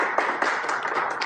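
A small audience claps together, a steady scatter of hand claps running close and fairly loud throughout, with no talking over it.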